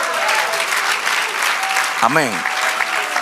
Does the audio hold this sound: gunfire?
no